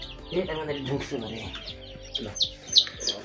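Day-old Tiger chicken chicks cheep in short, high bursts while being held for eye-drop vaccination, with a few louder peeps near the end and faint handling noises.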